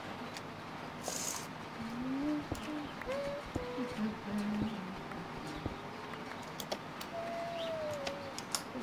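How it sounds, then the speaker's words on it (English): Birds outside call in short, faint chirps and coos behind an indoor room tone, with a brief murmured voice. "birds outside are noisy"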